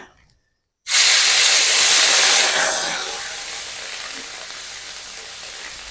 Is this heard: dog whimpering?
no